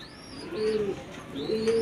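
Pigeons coo inside a loft, two soft rolling coos close by, with faint chirps in the background.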